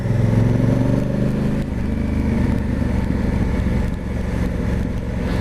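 A Honda CRF1000 Africa Twin DCT motorcycle is ridden, its engine producing a steady, loud drone that shifts pitch slightly as it runs on, with no voices.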